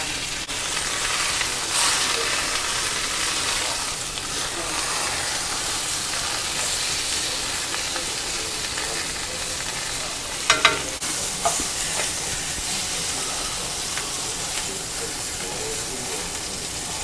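Pork loin sears in a hot pan with a loud, steady sizzle and hiss throughout, broken by a brief sharp clatter near the middle.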